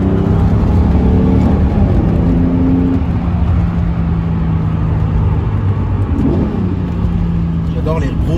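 A 6.2-litre naturally aspirated V12 car engine revving while driving, a loud continuous drone whose pitch falls and climbs through downshifts, with talk over it.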